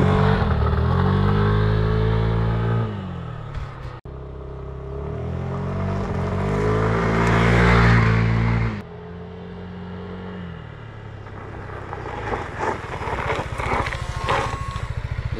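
Yamaha XMAX 125 scooter accelerating hard on gravel with traction control cutting in, loud revving engine rising and dropping in bursts, followed by crunching gravel and clattering underneath, close and without talk.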